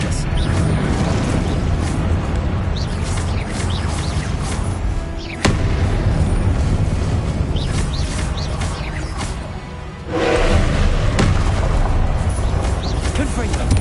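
Confringo blasting curse explosions from a Harry Potter game, dense rumbling booms and crashes rolling almost continuously, with a sharp crack partway through and voices calling out spells.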